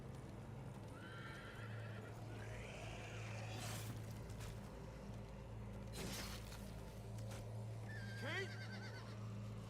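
A horse neighs and whinnies twice in The Walking Dead video game, with hooves clip-clopping and a low engine-like hum in the background, fairly faint overall.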